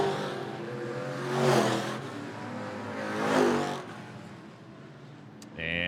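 Hobby stock race cars circle a speedway during a night qualifier, engines swelling twice as cars pass close and fading between, with a crowd-like wash and a loud burst at the end.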